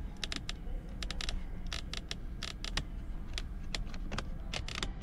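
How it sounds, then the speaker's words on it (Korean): Plastic buttons are pressed repeatedly inside a Kia Sportage (NQ5) cabin, giving sharp, close clicks in quick irregular clusters over a low steady background hum, with no talking. "버튼 눌림 조작감이 좀 아쉬웠는데요. 이상한 플라스틱 맞물리는 소리가 났습니다."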